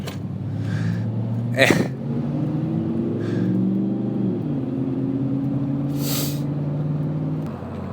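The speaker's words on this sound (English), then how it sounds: "here's the car that just roared by me earlier" A car roars past a cyclist out on a training ride, its engine a steady low drone that swells and shifts pitch midway before fading off, with a sharp burst of wind noise breaking in near the start and again toward the end.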